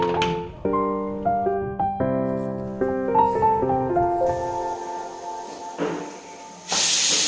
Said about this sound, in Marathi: कुकरच्या तीन शिट्ट्या घ्यायच्यात आपल्याला